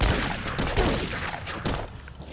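Shotgun fire in Fallout: New Vegas, loud dense blasts and clatter of game combat filling the whole clip with no clear gaps.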